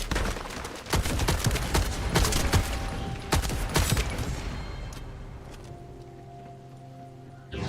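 Marksman rifle fire in a looter-shooter video game, with sharp repeated shots in quick succession during the first half. The shots then give way to a quieter, tonal game ambience.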